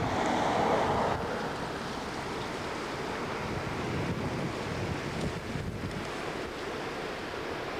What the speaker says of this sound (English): the wind's kind of blowing this direction